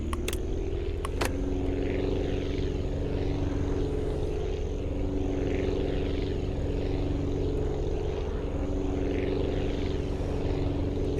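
A propeller airplane flies in the video game Aviassembly, a steady droning engine hum with a constant tonal buzz that stays loud and even throughout, broken by a couple of brief clicks near the start.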